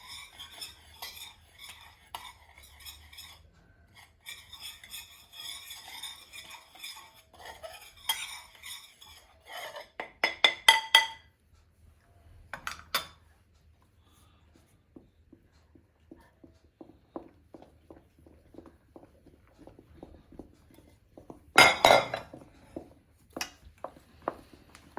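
Christmas cake ingredients being mixed together in a bowl, with scraping and clinking of a spoon against the bowl in irregular bursts, fairly close and quiet, plus occasional louder knocks.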